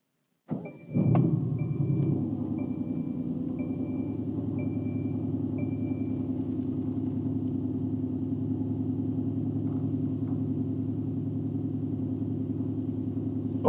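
A 2020 Mercedes-AMG GT R engine cranks and fires up with a short loud blip, then settles into a steady, deep, even idle that continues alone for the rest of the clip.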